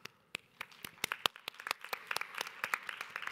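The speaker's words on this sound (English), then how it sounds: "if you could please stand up and give you a round of applause" A small audience at a lecture claps for steering committee members, sparse, distinct hand claps, faint and somewhat distant, thinning then continuing unevenly for a few seconds.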